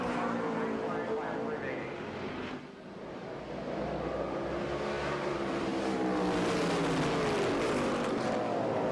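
Stock race cars at full speed on a short oval track, a steady roar of several engines with passing pitch sweeps, moderately distant and continuous.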